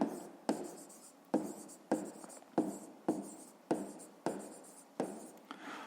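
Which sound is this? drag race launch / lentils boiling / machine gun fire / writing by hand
writing by hand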